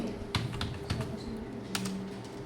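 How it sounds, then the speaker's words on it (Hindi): Computer mouse and keyboard clicks during accounting software work in Tally, with several sharp close clicks spread unevenly over steady low room hum. "माउस उठाओ और यहाँ पे क्लिक कर दो"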